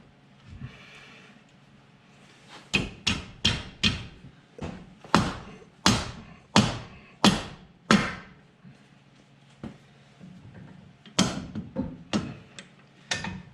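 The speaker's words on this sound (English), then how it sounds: "definitely use a rubber mallet and not a metal hammer because you'll mess your shocks up" A rubber mallet taps a shock into a Dr.Z shock tower on a Suzuki Samurai, giving a run of about a dozen sharp, close blows in uneven bursts with short pauses between groups.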